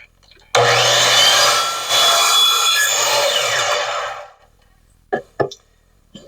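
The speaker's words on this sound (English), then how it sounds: "now that we're sitting correctly in the miter box, we're going to make our cut." A hand saw cuts crown molding held in a miter box. It produces a loud, continuous rasping stroke sound for about four seconds that fades as the cut finishes, followed by a couple of sharp knocks.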